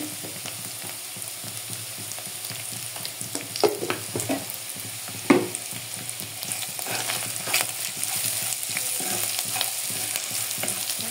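Dried fish (shutki) and onions fry in a pan while turmeric and salt are stirred in: a continuous close sizzle with repeated scraping stir strokes and a few sharper clatters against the pan.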